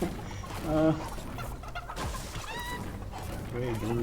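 Chickens in a video game cluck and squawk in short bursts, fairly close and moderately loud, over a steady background of game noise.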